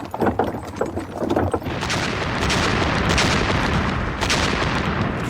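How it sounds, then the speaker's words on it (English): Soviet artillery barrage pounding German lines on the Eastern Front in summer 1943, a few heavy booms early, then a dense, continuous roar of distant gunfire and explosions building and holding loud to the end. "Huge Soviet artillery barrages and tank assaults were shredding the German lines."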